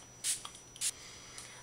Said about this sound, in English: So I just spray my face